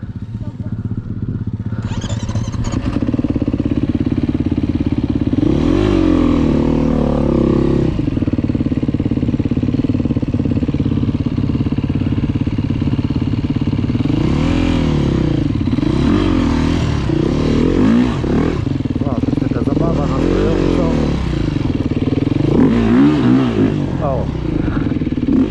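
An enduro motorcycle rides on a muddy trail with a continuous nearby engine note that rises and falls through repeated revving bursts, alongside clattering and scraping, with voices talking partway through.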